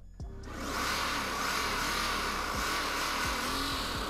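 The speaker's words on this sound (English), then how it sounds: "Listen to that V8 power." A V8 car engine idles steadily and smoothly after a pinion gear fluid change, a loud continuous rumble that holds for about four seconds with no talking over it.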